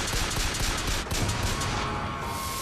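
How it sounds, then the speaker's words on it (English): Pistol gunfire in the video game BioShock Infinite, in a steamy, foggy rooftop area, with a fast burst of sharp shots crackling continuously and loudly throughout, no talk. "We are going to use the pistol real quick."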